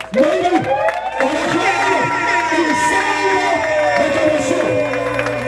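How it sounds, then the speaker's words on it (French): Wedding guests cheering and whooping loudly, with excited shouts and calls rising and falling in a lively crowd; voices dominate, with little distinct clapping audible. "Est-ce qu'on peut applaudir pour Madame Élisée Mokonda?"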